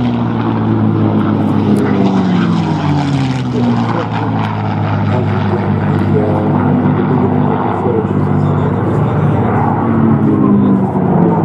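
P-51D Mustang propeller fighter passing at an air show, a loud droning piston engine whose pitch slides downward as it goes by, with a voice talking over it.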